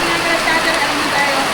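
Heavy rain pours steadily over an outdoor spot where grass cutting has been halted, a dense continuous hiss close by with no breaks, while people talk faintly beneath it.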